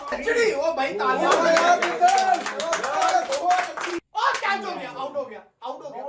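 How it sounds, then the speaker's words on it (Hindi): A crowd claps during a T20 World Cup cricket semi-final between India and England, rapid scattered applause mixed with excited voices and chatter that breaks off in short gaps. "ओ भाई तालियां।"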